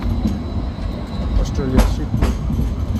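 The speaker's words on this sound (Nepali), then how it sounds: "ट्रेन आउँदैछ साथी हो सिडनीको ट्रेन सिडनीको ट्रेन आउँदैछ" A Sydney train pulls in with a loud low rumble and rattling wheels, and a brief squeal rises midway while someone talks over it.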